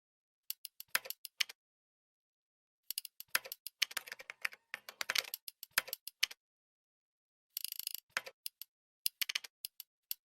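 Looped computer keyboard typing sequences layered as game sound design, quick clusters of crisp key clicks arriving in irregular bursts separated by short silences, close and clear with no voices.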